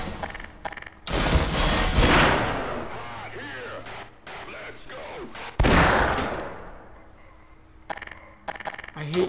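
Gunfire in the video game Half-Life: loud, dense bursts of shots and booms arrive in two main volleys, the first longer and the second shorter, with scattered quieter shots between them.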